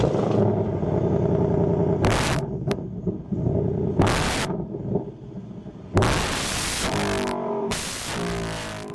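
A Ford Mustang Dark Horse's quad exhaust revs loudly several times, deep rumbling bursts with sharp crackling peaks, close by, separated by lower idling.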